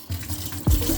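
A liquid mixture pours into a pan for a crown rib rack, a short steady splash and gush that starts abruptly and continues to the end, close and fairly loud.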